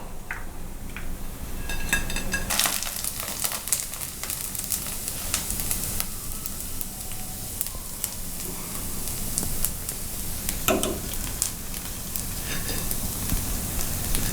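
Crisp pieces for chicken Manchow soup frying in hot oil, with a steady close sizzle and occasional crackles and spatters continuing without talk.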